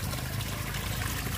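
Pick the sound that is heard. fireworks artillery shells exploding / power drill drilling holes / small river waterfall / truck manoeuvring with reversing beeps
small river waterfall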